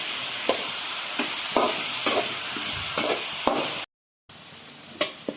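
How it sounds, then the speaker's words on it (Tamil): Onions and green chillies frying in a pan for egg bhurji, a steady broadband sizzle broken by repeated scraping stirs of the spatula, close and fairly loud, with a brief dropout near the end. "இப்போ நம்ம பச்சை மிளகாய் சேர்த்துக்கலாம். சேர்த்து நல்லா ஃப்ரை பண்ணி விட்டுக்கலாம்."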